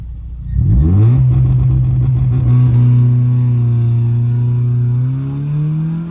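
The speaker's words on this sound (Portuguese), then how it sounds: "É quando você pisa no acelerador e ele trava num certo giro" A Honda Civic engine with launch control is revved hard from idle and then held against the rev limiter, a loud, close, sustained drone at constant pitch that climbs slightly near the end, with no talking.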